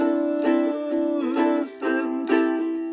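Ukulele strummed through the B section chords of a song, a steady run of bright strummed chords with sharp attacks every half second or so, close and clear with no voices over it.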